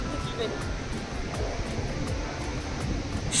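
Ocean waves wash continuously onto a beach at Kolthare, a steady broadband roar of surf that stays even throughout.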